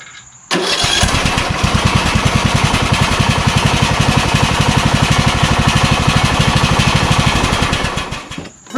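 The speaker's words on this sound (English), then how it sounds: "this tractor actually starts up without even" A Craftsman LT1000 lawn tractor with a rebuilt Briggs engine cranks and catches, then runs at a steady, loud, close-up chug with an even rapid pulse for several seconds before cutting off, no voices.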